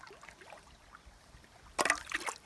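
Lake water scooped into a container at a backcountry campsite in Kawartha Highlands Provincial Park, a short burst of splashing and gurgling after quiet surroundings, close and moderately loud.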